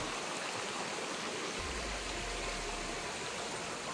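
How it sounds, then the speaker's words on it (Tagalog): Steady broadband rush of a stream running over rocks, continuous and fairly close, with no voices. "Oh, may tubig po."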